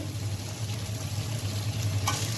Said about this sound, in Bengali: এই সবজিটা ভাজি করছি